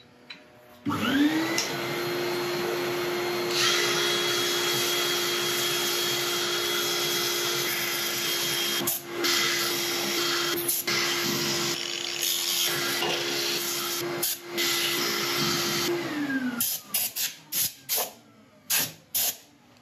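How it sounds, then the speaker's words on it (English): A wood lathe runs with a steady, loud whine for about fifteen seconds while an elm bowl is sanded, a harsh abrasive hiss on top, then stops and sputters out in short bursts. "I'm going to set up for sanding. I'll let you watch a bit of it"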